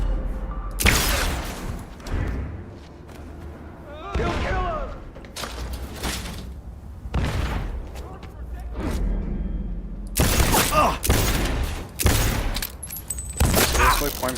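Gunfire in the video game Cyberpunk 2077: several loud, sharp volleys and booming bursts spread across the scene, mixed with voices shouting and talking.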